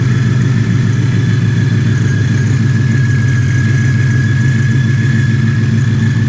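The ESS G3R supercharged Ford Shelby GT350 engine runs at its first startup, a loud, steady, deep idle rumble with a constant whine above it, close and unbroken.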